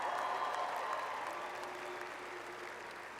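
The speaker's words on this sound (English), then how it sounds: "Yes, that's an applause line." A graduation crowd in a large hall applauds after a line in the commencement address, a broad wash of clapping that starts strong and slowly fades over a few seconds.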